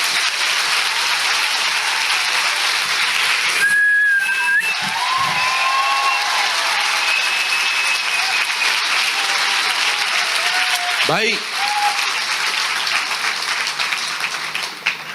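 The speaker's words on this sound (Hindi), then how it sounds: "आइए प्रभु के लिए एक जोरदार ताली बजाएंगे" A church congregation bursts into sustained, loud applause with several sharp whistles cutting through, a dense steady crowd sound lasting the whole stretch, with a brief spoken word near the end.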